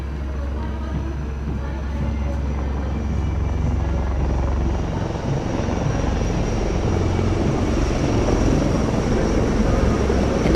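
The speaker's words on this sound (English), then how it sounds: "The formation consists of 2 Dhruv helicopters and 2 Rudra helicopters, integrated with weapon systems." Two Dhruv and two Rudra advanced light helicopters fly past in formation at a Republic Day parade, giving a loud, steady rotor and engine roar that swells slightly as they pass.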